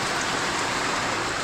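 Rain falls steadily on a newly built house, an even, dense patter of drops on hard surfaces, close and continuous, with no voices.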